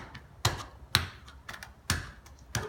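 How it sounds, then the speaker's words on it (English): A lump of clay being knocked into a long box shape for wedging, making sharp, solid thumps that land at irregular intervals over a quiet background, about five or six distinct knocks. "So when you first get your clay, knock it into"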